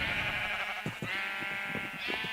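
A large flock of sheep on a Minecraft farm bleats in overlapping, wavering calls, a dense continuous chorus with short sharper bleats standing out and no talking.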